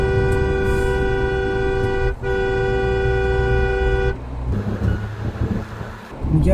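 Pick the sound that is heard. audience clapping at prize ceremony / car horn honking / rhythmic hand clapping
car horn honking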